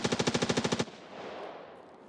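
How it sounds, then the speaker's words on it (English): Automatic gunfire in Escape from Tarkov, a quick burst of about ten evenly spaced rounds lasting under a second, followed by a fading echoing tail; punchy but somewhat muffled and far off, with no talk. "Combine that with distant gunfire and it almost feels cozy"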